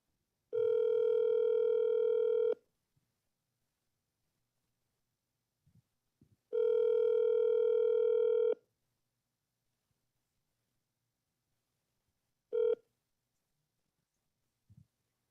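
Loud steady telephone tones on a phone call, two long two-second beeps separated by silence, then a brief short blip, with faint clicks between them and no talk.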